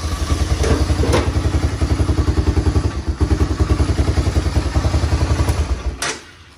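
A Honda 300 FourTrax 4x4 ATV engine idles close by with a rapid, steady chugging putter, loud and continuous before cutting off near the end.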